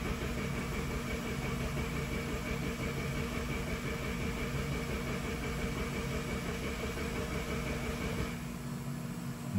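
Mazda 6 engine cranking without starting, fault tied to a crankshaft position sensor circuit, a steady rhythmic starter churn under constant drone that drops away near the end, moderately close.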